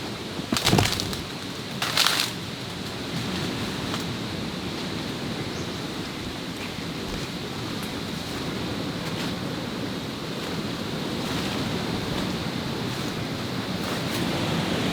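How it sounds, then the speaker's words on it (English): A hidden waterfall in the Bali jungle roars as a steady, broad wash of rushing water that holds level throughout, with a couple of brief louder bursts near the start and no voices. "You can hear it too, huh? Waterfall."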